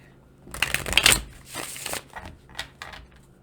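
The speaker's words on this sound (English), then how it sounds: "I'll shuffle behind the camera so you can hear me" Close, papery tarot card shuffling in a few quick rustling bursts, the loudest at the start, then softer flicks.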